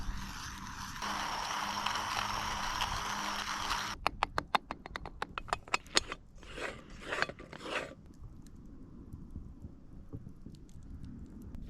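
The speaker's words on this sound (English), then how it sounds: "We'll grind these beans up, chuck them on the fire." Hand coffee grinder crushing beans at a bush campsite, a steady raspy grinding that gives way to a series of sharp clicks and ratcheting scrapes, then faint rustling, close and fairly quiet.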